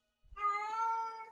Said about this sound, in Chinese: 哦、我家的猫。